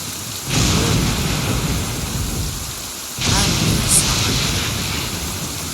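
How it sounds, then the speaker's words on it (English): Thunder and lightning crash over steady heavy rain in Genshin Impact, with two loud rumbling thunder swells breaking over the continuous downpour. "I might have triggered the thunder and lightning."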